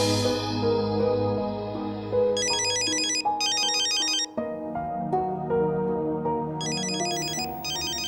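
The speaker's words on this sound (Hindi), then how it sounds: "किसका फोन है?" A phone ringtone plays loud and close: a synthesized melodic tune with bright, repeating chime-like bursts that cut in and out over several seconds.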